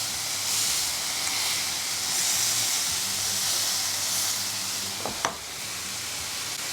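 Flank steak carne asada sizzling on a Ninja Foodi Pro XL grill, a steady loud hiss of searing meat with a brief clack near the end.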